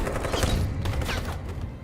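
Gunfire in the video game Detroit: Become Human, a dense fusillade of rapid shots rattling continuously and loudly for under two seconds, with no talking.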